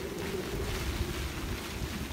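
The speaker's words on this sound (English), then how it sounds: "It's windy." Strong wind roars steadily around a boat at sea in very rough weather, a dense, loud rush mixed with wave wash and microphone buffeting throughout.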